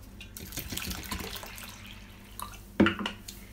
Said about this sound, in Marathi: परत ह्याच्यात आपण पाणी घालणार आहोत.